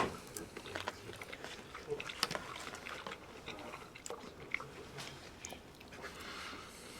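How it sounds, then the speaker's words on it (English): Crisp, close chewing and biting of a seared cauliflower steak, a few crunchy bites followed by steady mastication, fairly quiet with faint room noise and no talking. "All right, I'm about to try a bite."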